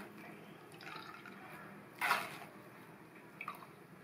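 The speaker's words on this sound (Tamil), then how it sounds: "இந்த மாதிரி வடிகட்டிட்டோம்னா சக்கை எல்லாம் ஃபில்டர்லயே தங்கிரும்" Gooseberry and coconut juice drips and splashes softly through a strainer, with one louder splash near the middle and a couple of small drips afterward, in a quiet room.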